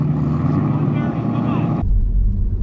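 A crash-rebuilt Audi RS6 engine with a blown turbo runs in a loud, steady, rough drone, dropping abruptly to a deeper low rumble near the end.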